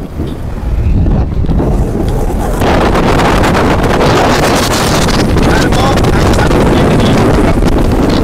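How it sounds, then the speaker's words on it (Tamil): Strong wind roars and buffets the microphone during a boat journey, a loud, continuous rushing blast that surges after the first couple of seconds, with a voice briefly heard under the noise. "சரியான காற்று"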